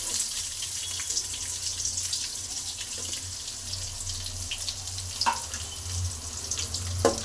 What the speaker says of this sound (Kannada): ಇವಾಗ ಈರುಳ್ಳಿನ ನೋಡಿ ಸ್ವಲ್ಪ ಫ್ರೈನ ಮಾಡ್ಕೊತೀನಿ